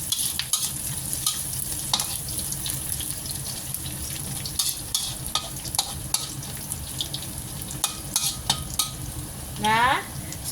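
Ginger frying in a pan, a constant soft sizzle and crackle throughout with scattered clicks and scraping of stirring, and one brief tonal chirp near the end.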